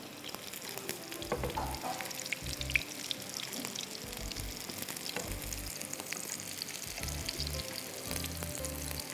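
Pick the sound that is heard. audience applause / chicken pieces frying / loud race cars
chicken pieces frying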